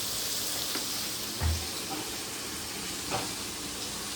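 Deshi chicken and potato jhol frying in a pan sizzles with a dense, steady hiss up close, broken by a couple of soft scraping stirs, with no talking.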